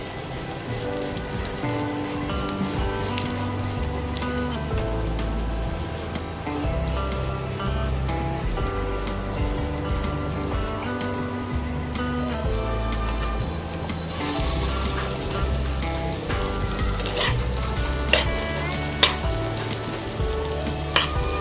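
Two sliced onions fry in a pan for a cabbage and chana dal bhaji, a continuous close sizzle with crackling and occasional stirring scrapes throughout.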